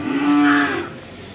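A buffalo at a Sunday livestock market gives a single short, loud moo lasting about half a second, close by and alone.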